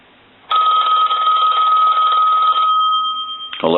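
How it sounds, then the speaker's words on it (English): A Cortelco 2554 wall telephone's bell rings loudly and close by in one sustained metallic ring lasting about two seconds, followed by a fading ringing tone and a sharp clunk at the end. "I want to ring the telephone. We'll let that go a few times."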